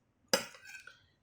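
Utensils clink and scrape against a bowl while Filipino home-cooked food is mixed, one sharp close clink followed by a second of softer stirring and rattling.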